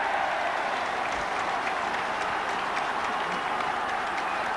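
Rugby league crowd at a Bradford Northern versus Castleford Regal Trophy semi-final applauding a Bradford goal, a dense, continuous wash of clapping and cheering heard from the stands at steady loudness.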